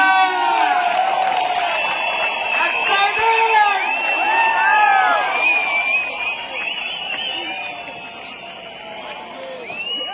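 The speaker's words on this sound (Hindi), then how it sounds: "खड़े हो जाइए, ताली बजाइए, सीटी बजाइए" A stadium crowd at an anniversary event in Tyagraj Stadium, New Delhi, cheers, whoops and whistles steadily for about ten seconds, a dense wash of voices and shrill whistles with scattered clapping, while an announcer's voice mixes in.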